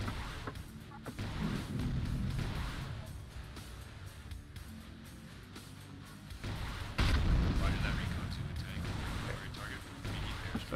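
In Quake II: Ground Zero, a reprogrammed gun blasts its own silo with repeated deep booming explosions and rumbling impacts, heavy low thuds recurring throughout, under someone talking over the game.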